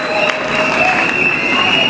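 Church congregation cheering and shouting loudly together, a dense sustained crowd roar with scattered clapping, close and continuous.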